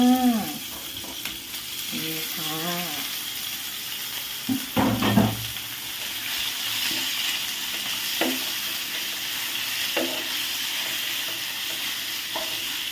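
Sliced pork belly sizzles and spatters in a hot pan as it is stir-fried with shrimp paste and stink beans, a steady crackle with scraping stirs and a brief spoken word.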